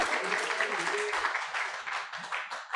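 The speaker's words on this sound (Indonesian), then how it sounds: "tepuk tangan untuk Ihsan" An audience at a book launch applauds for Ihsan with a dense, moderately loud spread of clapping, while a voice speaks over it near the start and the clapping thins slightly toward the end.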